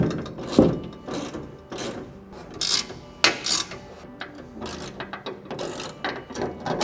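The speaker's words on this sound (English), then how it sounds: "hold back up with this wrench behind, tighten things up" Wrench ratcheting on bolts while fitting a storage box to a Mercedes Sprinter van, with irregular clicking bursts and metallic clanks, close up.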